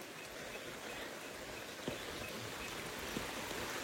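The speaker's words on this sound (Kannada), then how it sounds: "ಮಳೆ ಬೇರೆ ಬರ್ತಾ ಇದೆ" Rain falls steadily near Sakleshpur during a power cut, a dense, even hiss with a couple of sharper drips standing out, heard alone without talk.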